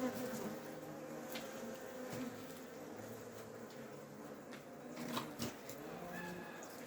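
A honeybee colony buzzes steadily as pollen cake is added to the hive, a close, fairly faint, continuous hum with a few light knocks and rustles from handling.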